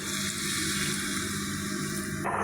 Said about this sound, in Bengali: এই পরিমাণে দিয়ে দিলাম পানি